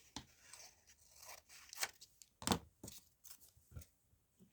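Scissors snip away excess paper from a book page while crafting a pocket, a handful of crisp, close cuts spaced irregularly with soft paper rustling between them, no voices.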